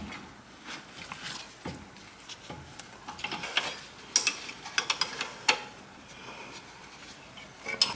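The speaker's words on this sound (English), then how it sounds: "let's get our 15mm and 13mm wrenches and start undoing the bolts that hold the actual caliper in place" Wrenches working on brake caliper bolts of a 2021 VW T-Cross, faint scattered metallic clicks and ratcheting ticks, some sharper knocks toward the end, no talk.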